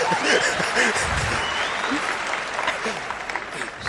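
An audience at a meeting breaks into loud, dense applause that holds steady for a few seconds, with faint chuckles and voices mixed in.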